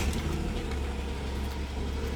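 Car engine idling steadily and close, a constant low rumble with no breaks and no voices.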